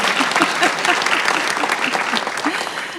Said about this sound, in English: A round of applause for those excellent, well done videos.